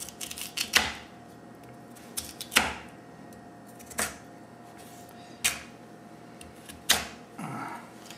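A knife cuts potato chunks for sancocho soup on a cutting board, landing five sharp, evenly spaced chops over a steady low kitchen hum, with no voices.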